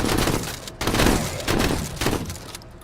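Shotguns firing in a strategy video game, three or four heavy blasts in quick succession, loud and close, each with a short rumbling tail.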